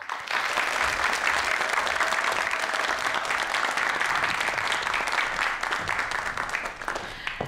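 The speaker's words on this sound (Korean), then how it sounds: "큰 박수 부탁드릴게요." Steady, dense applause from a lecture audience as a drone company's CEO takes the stage, sustained and fairly loud throughout with no talking over it.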